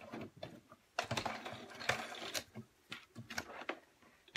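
A sewing machine backstitches elastic onto a mitten in short bursts, quick mechanical clattering stitches starting and stopping with brief pauses between them, close and fairly quiet, with no talking.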